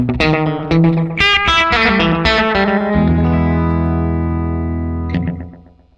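An Electro-Harmonix Deluxe Memory Boy delay pedal echoes distorted guitar notes, repeating them in rhythmic, pitch-wobbling trails that ring on loudly, then a sustained chord fades out at the end.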